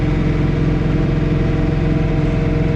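A John Deere 3 Series tractor powering a snow blower runs at 2,600 RPM, a loud, steady engine drone with a rhythmic low-frequency throb and no pauses.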